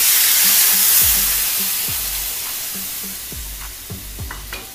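Milk poured into a pan of hot ghee sets off a loud, hissing sizzle that slowly fades, with several soft low knocks of a spoon against the pan.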